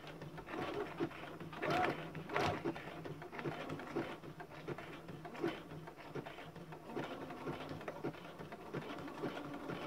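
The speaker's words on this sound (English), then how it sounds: "Let's see if I can sew over it." A sewing machine stitches over a small piece of pearl trim for a snippet roll, its fast steady patter running throughout at a fairly quiet, close level.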